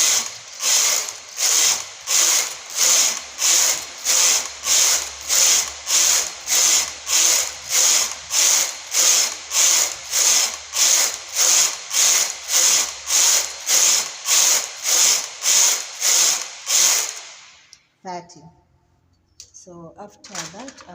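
A knitting machine running straight rows for the rib of adult knee-high socks, about twenty-five even rhythmic swishing carriage passes, loud and close, then stopping with a few light clicks and quiet handling.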